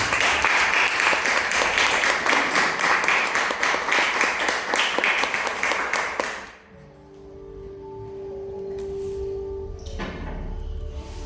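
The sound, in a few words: congregation applause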